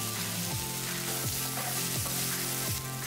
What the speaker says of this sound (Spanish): En un sartén voy a agregar un poquito de aceite para comenzar a cocer las papas.